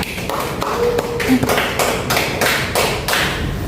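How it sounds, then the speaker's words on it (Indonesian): Audience applause at a cyber law seminar held by a university law faculty, a dense run of clapping lasting several seconds, fairly loud and close with no talk over it. "Mari kita memberikan tepuk tangan yang sangat luar biasa."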